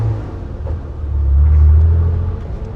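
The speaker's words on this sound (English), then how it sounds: "I haven't even heard the new turbo, what it sounds like yet." A car with a newly fitted turbo on its first test drive gives a low, steady engine rumble from inside the cabin that swells briefly as it pulls, then eases off, with no talking.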